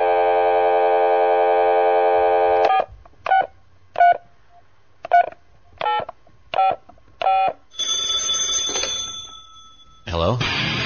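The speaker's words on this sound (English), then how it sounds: "So I'm going to play the phone call bumper here." A radio show's phone-call bumper jingle opens with a sustained, ringing electronic tone, then a series of evenly spaced telephone dialing beeps, a burst of line noise and a final bright chime.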